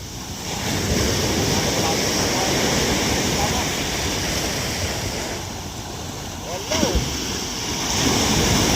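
Rough sea waves near a sunken boat, continuous wash of surf and wind noise rising and falling in strength, with a brief splash-like burst partway through and people talking faintly underneath.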